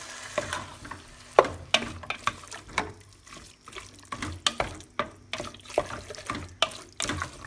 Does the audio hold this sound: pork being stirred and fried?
yes